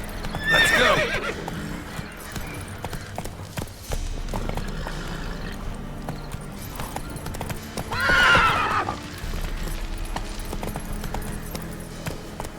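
Hooves clip-clop in a steady galloping rhythm as a horse is ridden in The Witcher 3 video game. Two loud whinnies break through the repeating beat of the stride.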